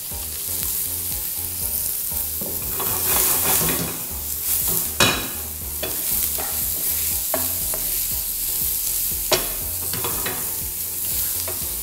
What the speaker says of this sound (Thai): จะผัดให้เห็ดเกรียมหน่อยออกเหลืองๆยังไม่สุกดีรู้สึกกระทะแห้งไปเติมน้ำมันมะกอกไปหน่อย